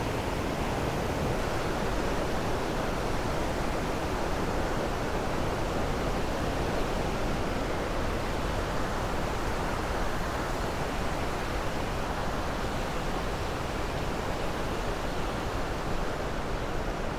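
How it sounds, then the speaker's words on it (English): A feeder stream runs toward Iguazu Falls in Argentina, giving a steady, even wash of flowing water that stays constant and fairly faint throughout, with no voices. "Here's some water, a feeder stream going into the waterfalls."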